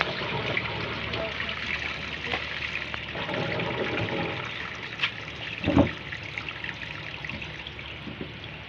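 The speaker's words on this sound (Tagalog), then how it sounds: "So, i-drain muna natin yan para ayusin natin kung ano talagang problema niya." Water from a washing machine with a drain leak trickles and pours steadily nearby, with a short splashy gush near the end and faint talk in the background.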